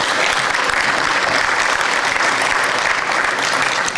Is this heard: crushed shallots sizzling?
no